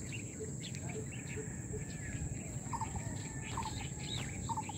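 A large black bird gives a few short, repeated calls at a moderate distance, rising above a steady chorus of crickets and insects and a constant high hum.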